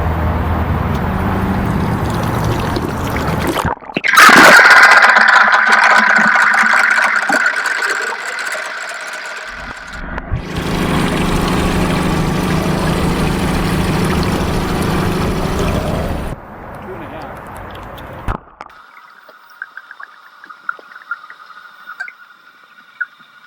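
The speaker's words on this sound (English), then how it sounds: "I used an underwater microphone to record the sound or lack thereof of the direct drive electric outboard." Captured by an underwater microphone, a direct drive electric outboard motor on a fishing boat comes through as broad rushing water and hum in separate loud sections, with a faint steady electric whine and scattered ticks near the end.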